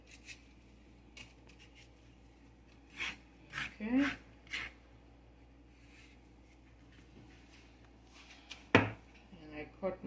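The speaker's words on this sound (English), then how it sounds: "And I cut my plantain." A knife cuts through plantain in a few scattered strokes and scrapes, close but fairly quiet, over a low background hum, in a quiet kitchen setting.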